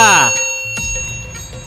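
A short bright bell chime rings out and fades, followed by a couple of soft metallic ticks.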